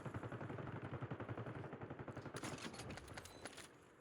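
Rapid automatic gunfire from a Call of Duty: Warzone match, steady bursts of shots filling the whole moment with a denser, sharper volley near the end.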